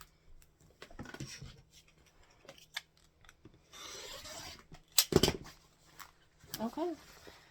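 Scissors cut quilt fabric strips in a few quiet snipping and rubbing passes, with a brief sharper clack midway, faint and close against a quiet room.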